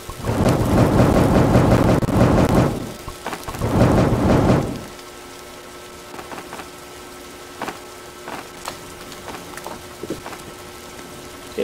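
A video-game thunderstorm brings heavy rain and two long rolls of thunder up front, then settles into steady, quieter rainfall with scattered drips and patters.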